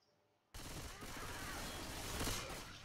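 Sustained, dense gunfire from several weapons in the zombie shooter Left 4 Dead 2, erupting abruptly after near silence and holding loud and continuous to the end, with a voice faintly mixed in.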